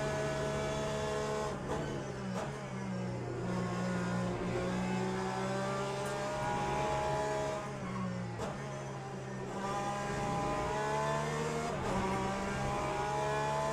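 Race car engines in Le Mans Ultimate during an online race with a Porsche close behind: a steady droning engine note rises and falls with gear changes and revs, loud and continuous, with other cars audible nearby.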